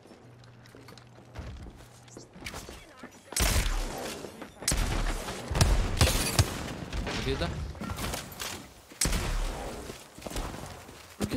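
Gunfire in Apex Legends: bursts of rapid shots and impacts erupt after a quieter start, loud and dense, with a player talking over the action.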